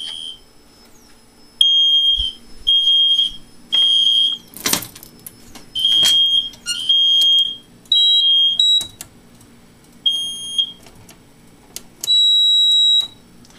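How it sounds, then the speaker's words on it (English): A smoke alarm under test with its covering tape removed, sounding at full volume in loud, piercing high beeps that come in repeated bursts separated by short pauses. "test my smoke alarm again, because I took the piece of tape off of it, so you'll get to know what the true volume of it is"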